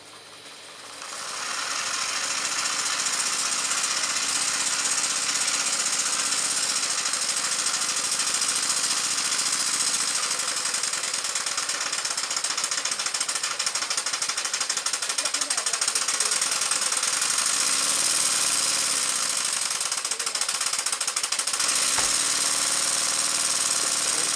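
A model steam engine running fast with its throttle wide open, producing a loud, close, steady rapid chuffing hiss that builds in the first two seconds and holds unbroken.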